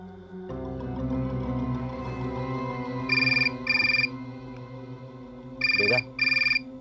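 A mobile phone rings in short electronic bursts, two pairs of beeping tones separated by a pause. Steady background music and tone run underneath.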